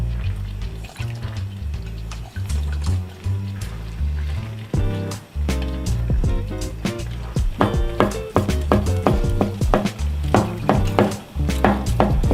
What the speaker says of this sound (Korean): 유부랑 버섯이랑 같이 볶아도 돼요.